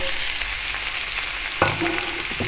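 Vegetables and fried eggs are stir-fried on high heat for restaurant-style chicken fried rice, with a loud, steady sizzle and a sudden scrape and clatter of the spatula partway through.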